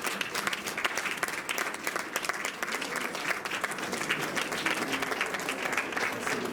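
An audience at a New Year's wishes and school-year ceremony claps steadily, a thick, continuous patter of many hands heard at moderate distance with no talk over it.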